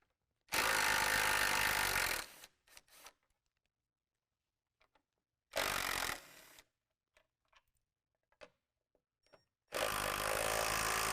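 Three loud bursts of a power driver or ratcheting tool back out headlight bolts on a 2018 Jeep JL, each lasting a second or two, with small clicks and handling noises in the quiet gaps.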